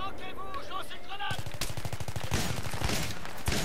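Gunfire in a subway battle in Battlefield 3 breaks out as a rapid, loud, close burst of repeated shots, following a moment of tonal game sounds.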